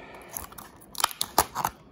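Scissors snip through a diecast car's cardboard box in a few short, crisp cuts that cluster toward the end, close up and fairly quiet, with no talk.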